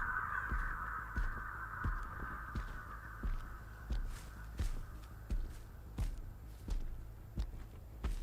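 Crows caw in a sustained noisy band in the Dead by Daylight game, loud at first and slowly fading, over a rhythmic pulse of heartbeat-like thumps and footstep sounds, with no speech.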